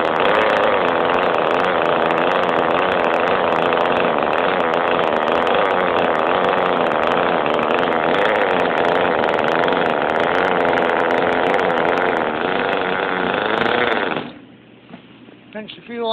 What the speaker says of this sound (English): it's a good running motor, runs good